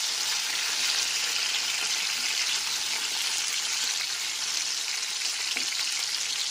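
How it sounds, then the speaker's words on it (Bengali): Potato and pointed gourd pieces frying in oil, a loud, continuous bright sizzle that holds steady, with no voices over it. "সমস্ত আলু ও পটলের টুকরোগুলো দেওয়ার পরে 3 থেকে 4 মিনিট ধরে খুব ভালো করে ভেজে নিতে হবে।"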